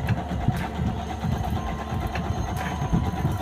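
A Toyo Singer sewing machine runs steadily nearby, giving a continuous low mechanical whir and rapid stitching rattle with no pauses.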